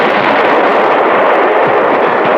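Cannon shot effect in a radio drama battle scene, a thick, loud barrage of artillery booms rolling without pause for the whole stretch, with no voices.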